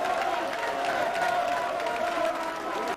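A crowd of UDPS federal presidents applauds and cheers at a presidential party meeting, a dense, steady wash of clapping and voices that stays loud and continuous throughout.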